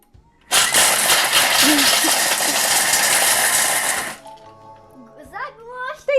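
A Thermomix food processor roars loudly for about three and a half seconds at speed 7, harsh and grinding as hard chocolate and peanuts are chopped, then stops, leaving quieter clatter and voices.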